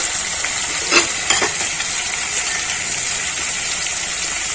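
Small fish with potatoes and pointed gourd sizzle steadily in a pan while being stirred, with a couple of brief scraping clinks near the start above the constant close hiss.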